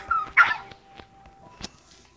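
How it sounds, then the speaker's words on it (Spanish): A small dog whimpers and lets out short yips, close by, with a sharp cry near the start and fainter whines after, mostly alone with little talk. "Un perrito."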